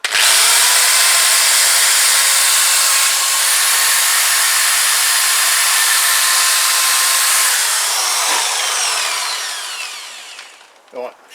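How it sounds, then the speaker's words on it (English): A wire brush spun by a power drill scours a surface on a Zontes Tiger 125 stand and yoke, a loud continuous high whine and rasp that holds steady for about ten seconds, then slows and cuts off, with a brief final burst. "Just a wire brush on the drill."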